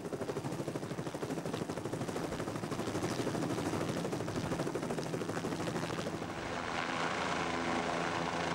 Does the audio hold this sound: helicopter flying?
yes